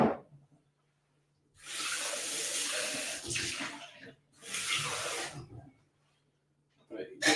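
Sink tap water running while a cocktail shaker is rinsed, two loud bursts of gushing flow separated by a short pause, with quiet gaps before and after.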